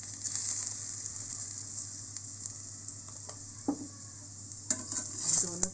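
Refined oil sizzling steadily under a vegetable paratha frying on a pan, a soft continuous hiss with a few light clinks and scrapes of a utensil, close by and without talk.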